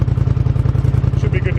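A Can-Am 850 HighLifter ATV fitted with a Big Gun Evo exhaust and Vortex quiet insert idles nearby with a steady, rhythmic thumping pulse and a muted tone.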